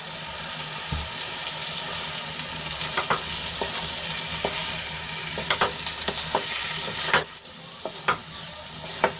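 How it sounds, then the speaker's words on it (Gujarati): Eggplant is stirred into a sizzling masala gravy in a pan, with steady frying crackle under repeated scraping and clacking strokes of a spoon, close and with no talking. "હવે એમાં આપણે રીંગણ એડ કરી લઈશું અને ગ્રેવીમાં સરસ રીતે મિક્સ કરી લઈશું"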